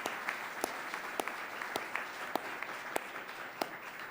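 An audience claps through a public art meeting, a steady patter of many hands with sharper individual claps standing out, moderately loud and without talk.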